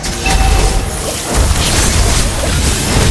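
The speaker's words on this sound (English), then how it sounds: "You destroy the turret!" A turret is destroyed in Mobile Legends, giving a loud, sustained crashing boom with rumbling debris that fills the whole stretch, with no voices over it.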